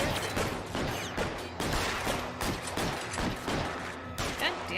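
Repeated gunshots from a shootout in the video game L.A. Noire, firing in bursts of sharp cracks with uneven spacing and fairly steady loudness throughout.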